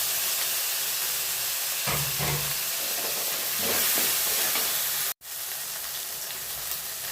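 Finely chopped tomato hitting a hot pan of ginger-garlic paste, giving a steady loud hiss and sizzle throughout, with a brief sharp cut in the sound near the end.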